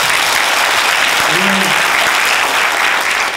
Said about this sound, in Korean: 박수 한번 할까요?